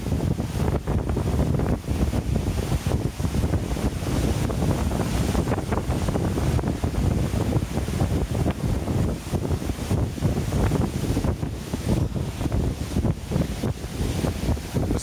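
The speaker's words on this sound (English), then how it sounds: "It's actually quite windy." Strong wind gusting across a microphone on a walk toward North Third Reservoir near Stirling, Scotland, a steady loud rumbling buffet that fills the whole stretch with no talking.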